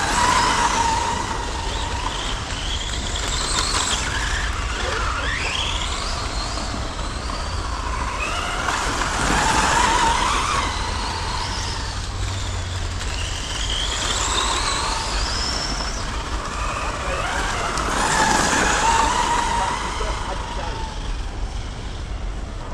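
A Traxxas F150 Raptor R Ultimate RC truck drives steadily for a long stretch, its motor whining and rising and falling as it speeds past, with a voice talking over parts of it.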